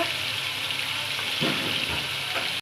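Chicken pieces and cashews fry in oil and ghee for biryani, giving a continuous, fairly loud sizzle with soft stirring scrapes over it.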